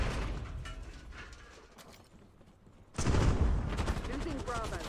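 Gunfire in a multiplayer shooter video game: rapid crackling shots under a low hum, fading quieter in the middle, then a loud burst of dense automatic fire and mechanical clatter, with faint voices mixed in.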